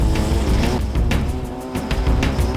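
Junkyard Wars climbing car from the Jet Jocks team revving hard off the start on its second run: a loud, close, continuous engine roar with steady harmonic drone and brief rasping bursts.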